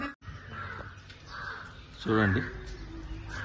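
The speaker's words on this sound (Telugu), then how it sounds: "పక్షులు, పావురాలు అన్నీ కూడా సూపర్ ఉంది." Crows cawing outdoors at a misty hillside location in Ooty, one clear caw in the middle over low background noise while a person speaks.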